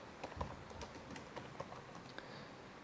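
Someone types a student's full name on a computer keyboard during Java Scanner input, giving a steady run of light, close key taps with no speech.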